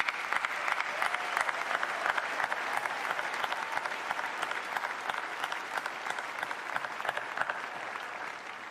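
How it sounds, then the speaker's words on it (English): A large audience at a spring commencement ceremony claps in steady, sustained applause that fills the space evenly from start to finish, with a faint murmur of the crowd underneath. "Please join me in a round of applause for this incredible team."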